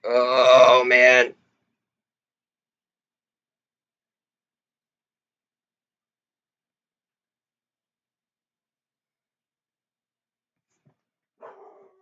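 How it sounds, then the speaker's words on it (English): Dogs bark in one short, close burst of harsh, voiced yelps at the very start, followed by long silence and a faint, brief noise near the end. "Sorry about the dogs, guys."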